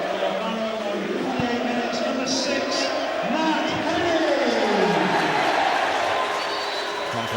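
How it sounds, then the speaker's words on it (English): A crowd of Barrow supporters cheers and applauds a goal in the distance at a football play-off final, while a commentator talks over the noise. "confirmation of the goal scorer, Matt Henney, met with rapturous applause from the Barrow supporters"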